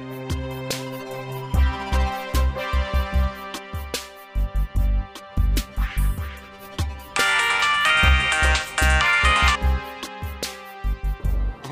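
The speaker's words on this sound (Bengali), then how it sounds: "দাঁড়া মিলনটা একটা ফোন দিয়ে দে।" A phone ringtone plays as a call is placed, a repeating musical melody with steady beats and a brighter chiming passage in the middle, heard clearly with no talking.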